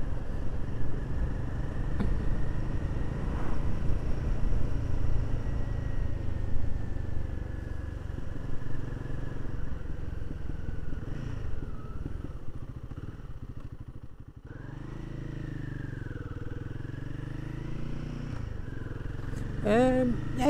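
Royal Enfield Guerrilla 450 motorcycle exhaust on UK roads, a low steady engine drone with shifting tone as the bike rides along, fairly quiet and continuous, with faint tonal sweeps near the end.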